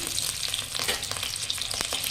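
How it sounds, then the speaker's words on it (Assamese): Potatoes fry in hot oil with ginger and garlic in a home kitchen, giving a steady close sizzle with scattered crackles and occasional stirring scrapes throughout. "আলুখিনিও মই দি পেলাই ভাজিব লাগিব"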